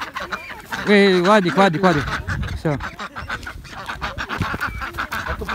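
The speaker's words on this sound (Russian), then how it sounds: "О, гуси, а гогочет" Geese honk loudly and repeatedly close by, a noisy cackling flock, while people talk briefly nearby.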